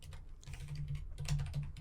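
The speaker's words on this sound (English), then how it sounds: "Type in his keyboard." Rapid typing on a computer keyboard by a podcaster, a steady run of close, quick key clicks over a low background hum with no talking.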